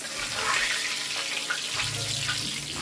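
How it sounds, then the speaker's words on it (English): Oil drains off freshly fried croaker fish in a steady, close rush of pouring liquid that sounds watery and hissy, with no talking. "Drain the oil off."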